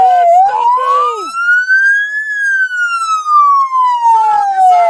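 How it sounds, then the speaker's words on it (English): Police car siren at a roadside arrest, loud and close, one long wail rising and falling, with shouting voices at the start and end. "Shut up, you siren! Shut up, siren!"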